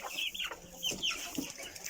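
Several hens cluck and squawk in short bursts close by, with scattered rustling between the calls.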